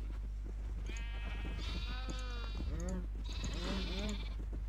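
Several sheep bleat in overlapping, wavering cries over a steady low hum, with a few clicks and thumps in the background, from about 20 small sheep in a cage in modded Minecraft (Tekkit Lite).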